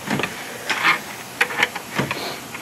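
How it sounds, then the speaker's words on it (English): A 3/8 NPT tap cuts threads into the factory vacuum barb on the back of a Ford Focus ST intake manifold, giving a few short scraping, ratcheting bursts spread across a couple of seconds, close and fairly quiet. "for our non-boost evacuation, we're going to use a 3/8 NPT tap"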